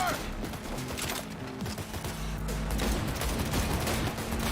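Video game gunfire crackles at moderate volume as people are shot, with dense, continuous bursts of shots layered over game noise and background sound throughout.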